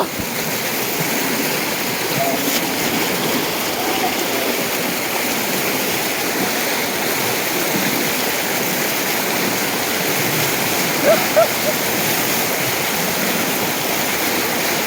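Floodwater from heavy rain rushes over a submerged road in Changaramkulam, Kerala, in a constant, heavy roar throughout, steady and close, with no voices standing out.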